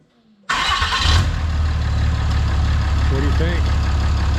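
A truck engine with a freshly welded exhaust cranks and fires up abruptly, then settles into a loud, steady rumbling idle close by while someone speaks briefly over it.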